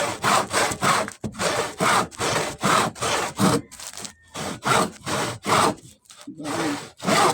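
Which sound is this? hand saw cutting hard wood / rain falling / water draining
hand saw cutting hard wood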